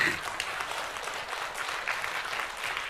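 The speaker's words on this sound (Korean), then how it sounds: "박수 좀 쳐봐." A church congregation claps together at a revival service, a steady dense wash of applause that holds evenly throughout.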